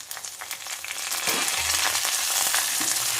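Curry leaves crackle and sizzle in hot oil with cumin and fenugreek seeds, a steady loud frying hiss that swells after a second, with no talking.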